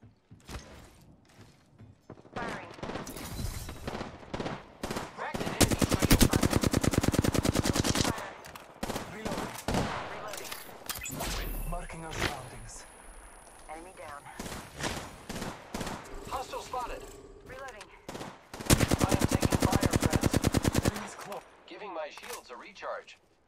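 Automatic weapon fire in the Apex Legends video game comes in rapid, loud bursts, heaviest in two long volleys, with quieter shots and game character voice callouts in between.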